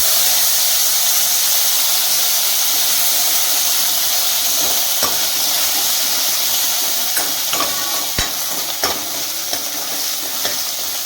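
Chilli, ginger and garlic paste with red chilli, cinnamon and cloves being stirred in a hot pan for Gujarati dapka kadhi, with a steady loud sizzle and scattered scraping clicks of the spoon.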